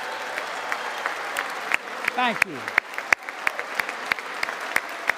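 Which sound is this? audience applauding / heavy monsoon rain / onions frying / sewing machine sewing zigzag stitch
audience applauding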